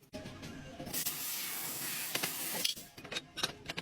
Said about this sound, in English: all you need is a laser welding machine like this